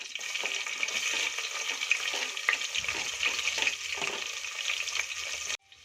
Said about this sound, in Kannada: ಈಗ ಒಂದು ಈರುಳ್ಳಿನ ನಾನು ಸ್ಲೈಸಾಗಿ ಕಟ್ ಮಾಡಿ ಸೇರಿಸ್ಕೊತಾ ಇದ್ದೀನಿ